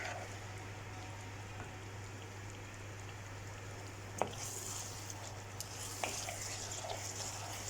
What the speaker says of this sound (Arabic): دوبا تقلى هكا الطماطم.